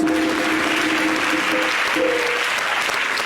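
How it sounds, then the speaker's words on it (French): Steady, dense applause rises from a studio audience on a French television talk show set, holding at a loud, even level throughout with a faint tone underneath. "Est-ce qu'on peut applaudir?"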